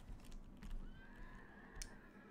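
A horse in the video game Mount and Blade gives one clear, drawn-out whinny near the middle, standing out above soft background noise and faint clicks.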